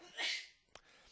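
A single quick sneeze, a sharp breathy burst at close range, followed by a brief click, with no talking over it.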